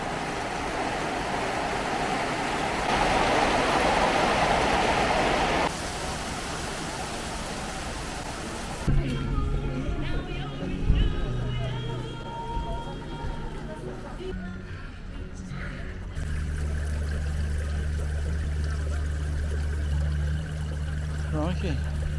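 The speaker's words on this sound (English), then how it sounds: "And it's pouring down outside." Heavy rain and hail pour down outside in Evesham, a dense hiss and patter that shifts in character midway, with voices speaking over parts of it.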